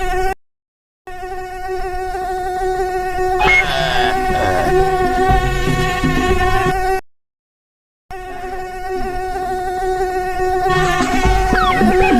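A mosquito in an animated story buzzes with a steady, shrill, loud whine that runs nearly continuously, broken by two short silences, with brief extra rasping tones in the middle.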